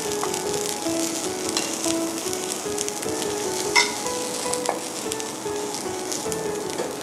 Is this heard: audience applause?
no